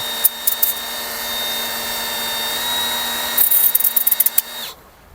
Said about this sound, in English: got a roll lock sandpaper on our die grinder